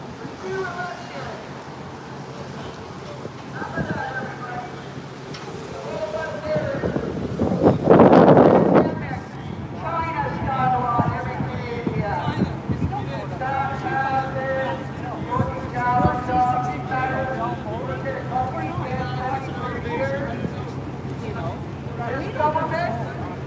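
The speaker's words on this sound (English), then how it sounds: "Oh, wow, the wind is really picking up." Strong wind gusts blow across the microphone outdoors on Parliament Hill in Ottawa, a steady low rumble with one loud buffeting burst midway, while people talk throughout.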